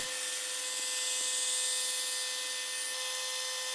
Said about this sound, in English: Here I'm using the 2-inch belt grinder to grind the bevels.